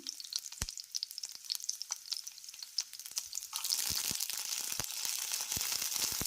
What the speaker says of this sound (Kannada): ಎಣ್ಣೆ ಬಿಸಿ ಆದಮೇಲೆ ಬೆಳ್ಳುಳ್ಳಿ ಹಾಕ್ಕೊಳ್ತೇನೆ ಹಾಗೆ ಒಣಮೆಣ್ಸಿನ್ಕಾಯಿನೂ ಹಾಕ್ಕೊಳ್ತೇನೆ